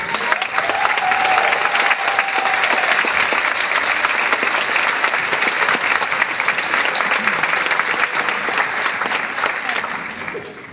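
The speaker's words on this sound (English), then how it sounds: "please rise for a big round of applause" A large commencement audience at Pamlico Community College applauds faculty and staff in a dense, steady roar of clapping that holds for about ten seconds, then tapers off slightly.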